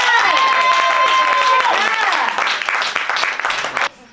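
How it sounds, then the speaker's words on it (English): Audience applause greets a presenter, a steady rush of clapping under loud, sustained musical tones and cheering voices, cutting off abruptly just before the end. "Let's give her a round of applause."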